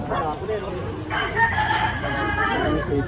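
Rooster crowing in an outdoor street setting, a fairly close, drawn-out call rising over a steady background of voices and street noise.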